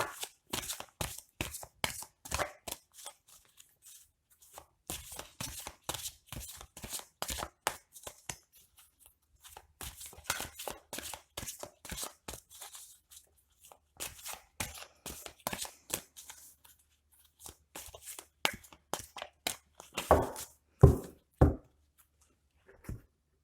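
Oracle des Miroirs cards shuffled and cut by hand for a reading, rapid papery riffles and slaps in bursts close to the listener, pausing briefly between rounds, with a quick flurry near the end.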